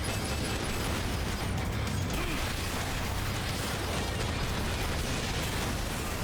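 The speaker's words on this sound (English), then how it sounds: "We're going to send missiles." Missile strikes blasting ground targets in the mech action game Daemon X Machina: a dense, continuous rumble of explosions and mechanical clatter, loud and steady throughout with no clear gaps between blasts.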